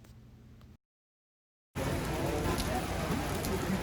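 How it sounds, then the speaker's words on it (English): Heavy rain and hail in the historic district of Quito, a dense, close, steady hiss and patter that starts up again after a brief silence, following a moment of fainter ambient sound. "we are here for thunder and hail and rain"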